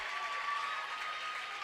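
NFA student section at a high school basketball game cheering and clapping after a basket, a continuous, moderately distant roar of crowd noise with no talk.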